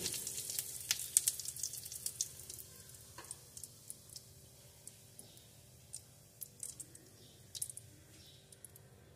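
Hing drops into hot mustard oil in a kadai and fries with a soft, steady sizzle, dotted with small crackles and pops, fairly quiet and close.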